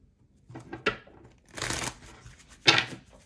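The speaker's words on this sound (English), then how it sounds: "Sorry if the cards are a little loud." Tarot cards shuffled close by in three quick riffling bursts, sharp papery flutters separated by brief pauses.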